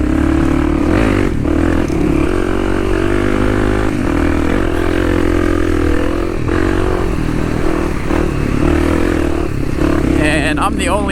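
A Kawasaki KLX 300 dual-sport bike rides the Hatfield McCoy trails, its single-cylinder engine droning loud and steady with rises in revs, the clatter and scrape of the trail underneath, and a brief burst of other noise at the end.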